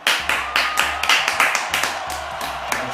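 A short burst of hand claps in a radio studio, about a dozen sharp, fairly close claps in an uneven rhythm over three seconds with no talk.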